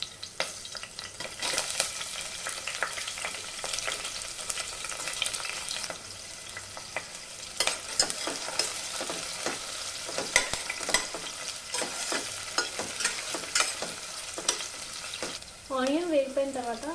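Chillies and onion fry in a pan for sambar, giving a close, steady sizzle with frequent scraping stir strokes throughout and a brief wavering tone near the end.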